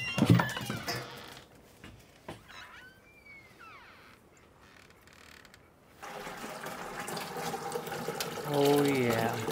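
Fresh eggs are washed under running tap water, the flow starting and stopping with clinks and handling noises, and a voice speaks at times in between.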